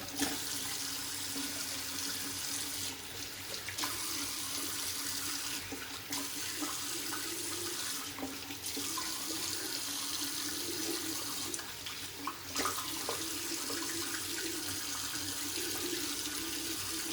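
A tap runs during face rinsing after a straight razor shave. A steady, close water stream plays alone and breaks off briefly a few times.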